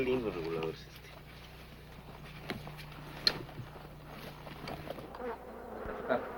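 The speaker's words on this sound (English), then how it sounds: "Is that the bees that I see flying around your head?" Bees buzz steadily close by near a large hive in the Yucatán, a droning hum with faint rustling and occasional voices at a distance.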